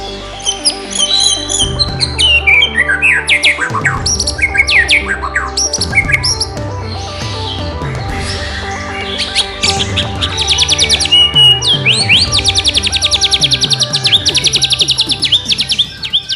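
A white-rumped shama sings loud and close, mimicking a canary with rapid bright trills, chirps and whistled phrases that pour out in dense bursts throughout with short pauses between them.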